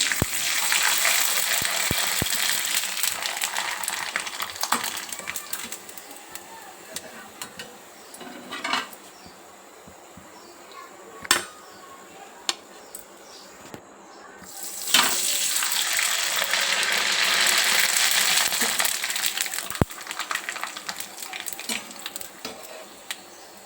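Sabudana papad frying in oil in a small kadai, a strong steady sizzle that fades, picks up a few clinks and stirring sounds, then surges loudly again as more papad goes in.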